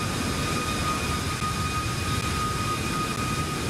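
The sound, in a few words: Boeing 737 MAX 8 jet engines during takeoff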